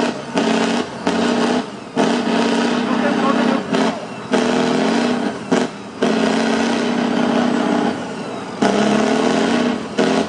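A Tatra truck engine idles at a truck trial event in Mohelnice, a loud, close, rumbling drone with a steady harmonic tone that surges in repeated bursts and briefly dips between them.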